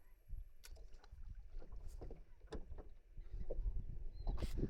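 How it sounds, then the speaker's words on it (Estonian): A faint, distant boat engine drones beneath wind buffeting the microphone, with occasional light knocks and splashes nearby, at sea while fishing off Saaremaa in midsummer. "Teiste meeste paadi häältamist ka kuulda kuskilt."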